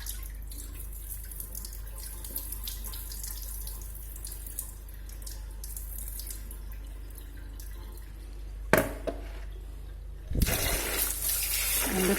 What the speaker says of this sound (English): And the third rinse, so that all the powdery stuff will be removed.